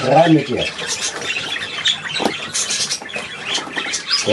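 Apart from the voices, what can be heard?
bird squawking while put into a box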